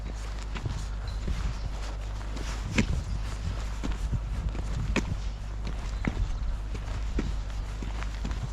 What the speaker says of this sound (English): There's these little horses again.